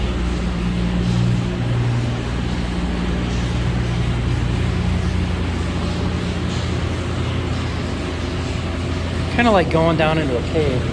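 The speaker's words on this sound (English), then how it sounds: "I hear water running." Water rushes inside a historic hydroelectric mill, a steady, loud low roar that continues throughout while someone talks near the end as he descends into the cave-like space.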